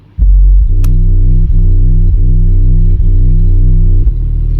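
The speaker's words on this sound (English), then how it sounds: "I've got an 808 sub bass here, just chilling in the back" A deep 808 sub bass from a rare/cloud phonk mix drones loud and sustained, its low notes restarting in a slow, uneven pattern with no voices over it.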